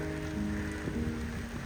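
Rain falls steadily over the city of Kandy, a soft even patter and hiss on surfaces, continuous and moderately close with a faint low hum underneath.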